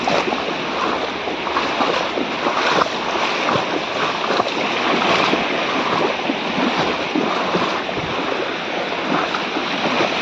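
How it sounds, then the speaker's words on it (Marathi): Sea waves wash onto the beach at Bordi on a morning walk. The surf makes a steady, broadband rush with soft swells, heard up close and without a break. "हा समुद्र आहे आमचा बोर्डीचा"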